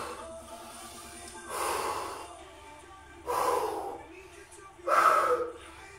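Three forceful exhales during a cardio workout come as separate breathy bursts roughly a second and a half apart, each louder than the one before, over a quiet background.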